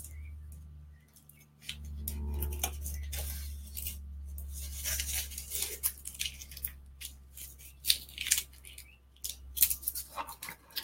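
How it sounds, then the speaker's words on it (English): Wrapped food being unwrapped close up, with crinkly rustling and tearing of the wrapping in irregular bursts over a low background hum, with no talking. "We can also tune into the sound of unwrapping and what that is like."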